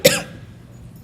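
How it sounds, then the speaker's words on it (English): A single sharp cough from a person speaking to an audience, loud and close at the start, then a quiet room tail. "Might you all say a prayer that I stop coughing?"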